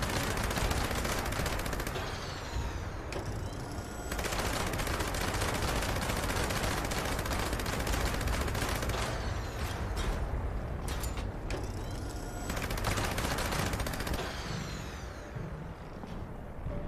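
Automatic weapon fire in Fallout 76 crackles in dense, sustained bursts with brief lulls, loud and close amid mechanical clatter and a steady game ambience underneath.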